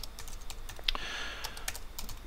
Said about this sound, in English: In here we type in our message.